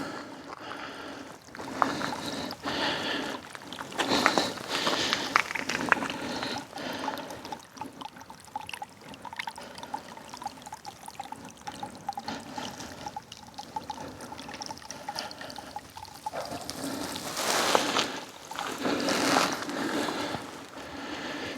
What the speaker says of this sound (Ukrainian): А десь зовсім поруч біжить струмочок.